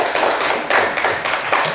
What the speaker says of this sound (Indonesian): Tepuk tangan untuk kelompok Nera.